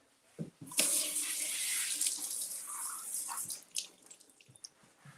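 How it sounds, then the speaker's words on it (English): Fresh romaine leaves rinsed under a running kitchen faucet: a steady splashing stream of tap water into a sink, starting after a couple of soft knocks and tapering into drips and light clatter near the end. "So I'm going to rinse these off"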